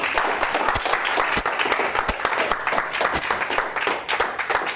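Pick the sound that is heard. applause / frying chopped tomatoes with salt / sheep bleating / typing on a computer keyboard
applause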